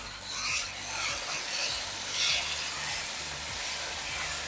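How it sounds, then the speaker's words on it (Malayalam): Pepper chicken gravy, thinned with hot water, gets stirred in a pot: a steady rasping scrape and soft hiss of spoon through liquid, with a few louder sweeps, close and continuous with no voices. "നന്നായിട്ടൊന്ന് ഇളക്കി കൊടുക്കാം."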